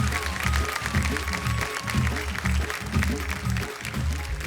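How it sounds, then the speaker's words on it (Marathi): An audience applauds a kirtankar at a devotional kirtan competition, with dense clapping mixed with rhythmic instrumental music throughout. "जोरदार टाळ्या झाल्या पाहिजेत त्यांच्यासाठी."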